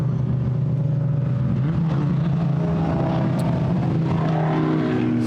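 Group A era racing cars run on a dry, sunny track at Goodwood, making a continuous droning engine roar at moderate distance with no voices.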